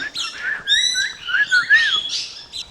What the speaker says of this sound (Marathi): पोपट मोठा झाला